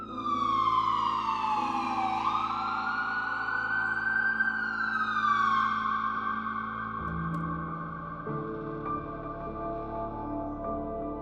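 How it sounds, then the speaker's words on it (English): Emergency siren on an ambulance arriving at a scene for the Abington Fire Department, a loud continuous wail that sweeps up and down in pitch, with rumbling engine and traffic noise underneath and no talking. "There's an ambulance here right now."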